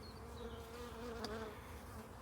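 Honey bees drone steadily at an open beehive in spring, a dense, continuous buzzing hum with individual bees passing close, quiet overall and without speech.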